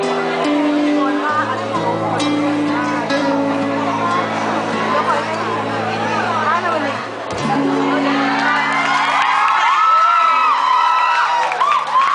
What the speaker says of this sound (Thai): ขอเสียงปรบมือแล้วก็เสียงกรี๊ดดังๆ ให้พี่ออมอีกครั้งหนึ่งค่ะ